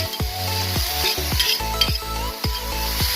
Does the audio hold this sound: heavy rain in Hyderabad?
no